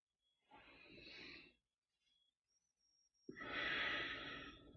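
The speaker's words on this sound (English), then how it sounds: "Breathing fully and deeply" Two slow, deep breaths, a long inhale then a long exhale, taken during a yoga exercise for skaters, close and quiet with a pause between them and no talking.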